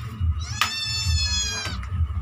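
A cat meows twice in short rising-falling calls, fairly close, with low rumbling background noise and no talking.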